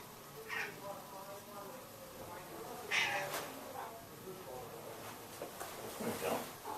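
A cat named Mauri purring close up, a low continuous rumbling texture with a few brief higher chirrups or faint meow-like sounds mixed in over a steady background.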